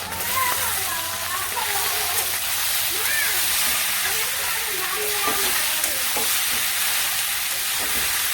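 Pasta frying in a pan alongside fried egg and ghee, a steady close hiss and sizzle that continues throughout while someone talks over it.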